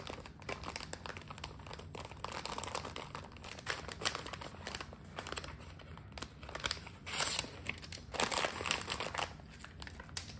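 Bubble-wrapped crystal jewellery is packed into an envelope: soft, continuous crinkling and rustling of plastic wrap and paper, close by and fairly quiet, with no talking.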